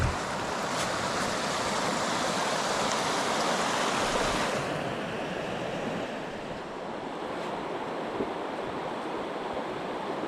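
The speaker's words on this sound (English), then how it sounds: "Not a bad stream." A flowing creek along a hiking trail near Laurel Fork Falls, Tennessee, gives a constant broadband rush of water, loud and close, softening slightly about halfway through with no talking.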